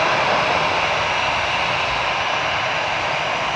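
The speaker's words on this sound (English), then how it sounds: "there's a Condor lining up" Jet engines of a Condor airliner lining up for departure at Frankfurt Airport, a steady, loud broadband roar that holds even and unbroken throughout.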